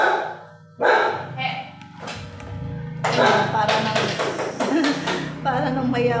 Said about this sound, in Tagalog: May aso kasi.